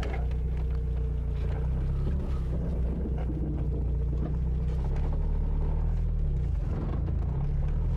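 Mazda Miata autocross race car engine idling with a deep, steady rumble close to the microphone, an unbroken drone with slight shifts in tone as the car is put into first gear.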